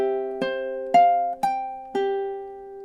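A ukulele picks out the opening measure of a gentle lullaby melody, five clear plucked notes in slow, even time, each ringing out and decaying before the next, played alone.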